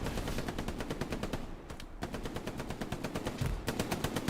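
A machine gun fires sustained rapid bursts in the Hell Let Loose video game during an 18-versus-18 tournament match, with dense, loud, evenly spaced shots and only a brief pause in the middle.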